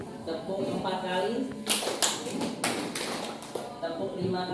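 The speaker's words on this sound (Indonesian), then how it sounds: "Tepuk 4 kali." A group of school staff standing together clap their hands in unison four times, sharp broadband claps in quick succession, with a voice speaking before and after them.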